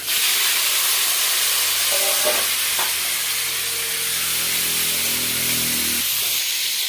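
Green chilies and cauliflower go into hot oil tempered with panch phoron, producing a loud, close, continuous sizzle and hiss that never lets up.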